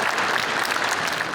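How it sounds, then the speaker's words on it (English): An audience at a Holodomor commemoration at Edmonton City Hall applauds, a loud, dense burst of crowd clapping lasting just over a second. "So a big round of applause."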